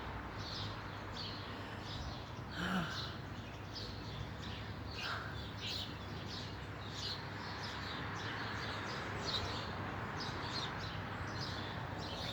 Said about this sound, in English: Calling of the birds.